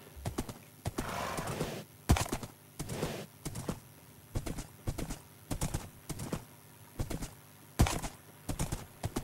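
Horse hooves clip-clop in a rapid gallop in the video game Minecraft, a quick run of sharp repeated hoofbeats with occasional whinnies, loud and close with no talking.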